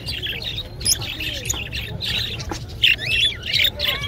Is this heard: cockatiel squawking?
yes